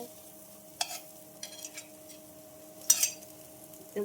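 Potato slices frying in oil in a pan as they are flipped, a soft steady sizzle with a few sharp utensil scrapes and clinks.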